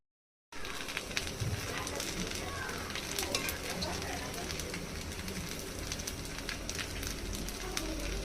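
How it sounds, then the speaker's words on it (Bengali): Tandoori chicken pieces frying in hot oil, a steady crackling sizzle with sharp spits and pops that starts abruptly and continues without pause. "এভাবে সবগুলো চিকেন ভেজে নিব।"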